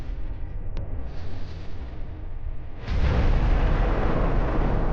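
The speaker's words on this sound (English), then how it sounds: "The powerful explosion leaves only black smoke from the target" A HIMARS strike on a Russian convoy: a deep, rumbling blast suddenly swells into a sustained roar of broadband noise, heavy and loud, following a quieter stretch of low rumble with a brief pop.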